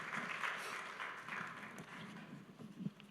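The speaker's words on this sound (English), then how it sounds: "big round of applause, please" Quiet audience applause at a family business awards event, a soft patter of many hands clapping at a distance, fairly even throughout with one slightly sharper clap near the end.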